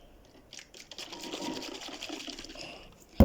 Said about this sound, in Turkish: Şimdi burada delik olduğu için buradan elimize su geliyor.